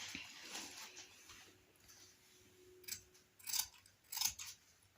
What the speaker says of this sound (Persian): قیچیش میکنیم